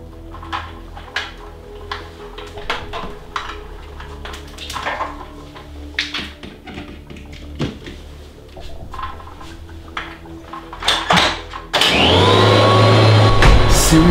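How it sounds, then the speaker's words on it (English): A vacuum cleaner switches on late and roars loud and steady at close range after a stretch of scattered knocks and household clatter. "Gonna vacuum? 5 in the morning?"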